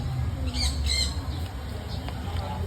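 A bird at a resort gives several short squawks close by early on, followed by fainter calls, over a low steady background hum.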